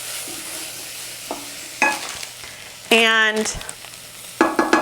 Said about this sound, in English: Give your herbs a stir in the onions